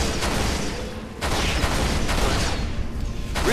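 Dense, continuous gunfire and explosive booms from combat in the video game Halo Reach, loud and sustained with repeated blasts and a brief dip in intensity.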